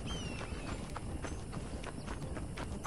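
A horse's hooves clip-clop steadily as it arrives in the video game Red Dead Redemption, a quick rhythmic trotting close by over faint ambient background.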